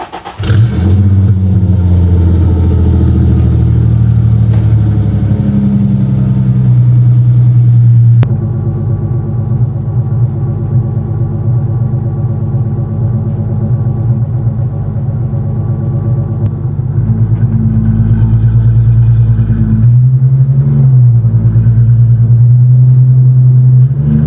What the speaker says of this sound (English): This is going to be the last cold start of this exhaust setup.